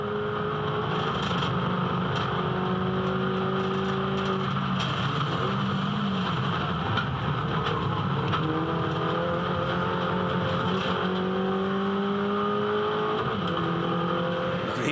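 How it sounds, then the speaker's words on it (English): Several turbocharged four-cylinder MINI Challenge race car engines with racing exhausts drone and rev together at Barbagallo Raceway, pitch rising and falling through gear changes, a continuous loud roar with cars passing at moderate distance. "4-cylinder engines, turbocharged, racing exhaust, race-bred suspension."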